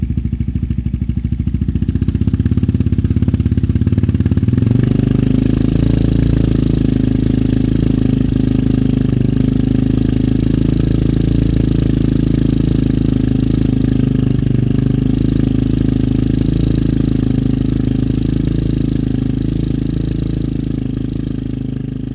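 Yamaha XT660Z single-cylinder motorcycle fitted with a Dominator exhaust idles steadily at close range, a loud, even low rumble that settles into a smooth, constant throb after a brief rise in the first few seconds.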